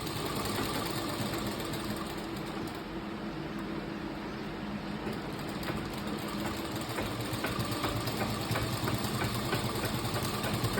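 Sewing machine stitching fabric for a market bag, a steady close whir with rapid mechanical ticking that runs without a break.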